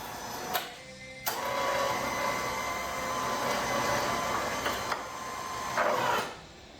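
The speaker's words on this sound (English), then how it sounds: "Alright, winch out." An electric winch motor on a Can-Am Outlander 650 ATV whines steadily for several seconds at close range, with brief stops and restarts near the beginning and end.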